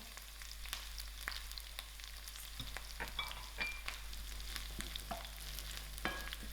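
Dry chilies and freshly ground garlic fry in hot oil for sour dhal, a quiet crackling sizzle broken by a few sharp pops and spoon clinks against the pot, under a low steady hum.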